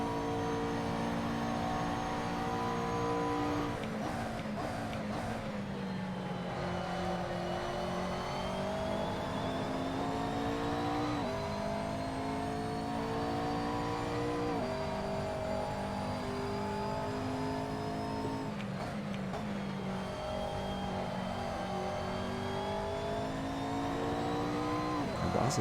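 Race car engine in a racing video game, a loud continuous drone that climbs in pitch and drops sharply at repeated upshifts, including quick double shifts, over about twenty-five seconds.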